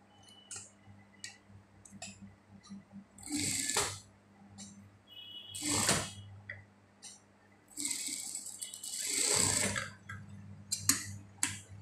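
A sewing machine stitching a rounded shirt sleeve onto the body runs in short close bursts, separated by quiet pauses filled with small clicks as the fabric is turned.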